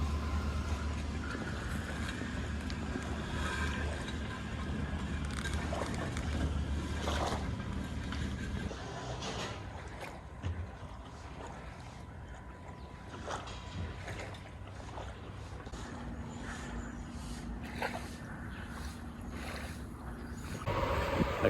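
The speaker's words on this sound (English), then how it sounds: "this might have some wind noise" Steady wind roar buffeting a microphone while riding a road or gravel bike outdoors in the mountains, continuous and fairly loud for the whole stretch with no talking.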